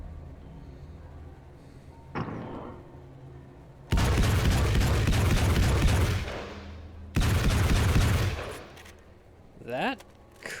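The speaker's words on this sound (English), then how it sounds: "Oh! Combat shotgun." A combat shotgun in Alan Wake American Nightmare goes off in loud, heavy blasts, two long booming bursts that each ring out and decay, followed by a short whooshing effect.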